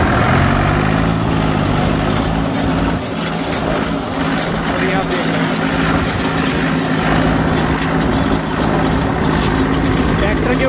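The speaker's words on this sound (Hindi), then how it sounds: "ट्रैक्टर स्टार्ट हो चुका है और अब आपको दिखाएंगे कि कैसा चल रहा है" A Mahindra 265DI tractor runs a 7 ft KSD rotavator with new double-disc blades. Its engine gives a loud, steady, low drone that holds unbroken with wind-like noise over it.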